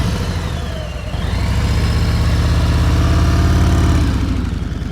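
A motorcycle engine chugs at low revs, a steady rumbling pulse that grows louder as the bike rolls closer, with no voices.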